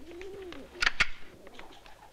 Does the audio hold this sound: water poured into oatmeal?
no